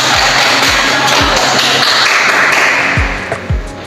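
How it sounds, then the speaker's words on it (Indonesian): A classroom group applauds, dense steady clapping for about three seconds before it thins out, with a few soft thumps near the end. "Mari kita berikan aplaus."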